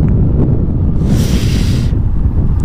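Strong wind buffets the microphone outdoors near the sea in a dense, loud rumble throughout, with a brief hissing gust in the middle.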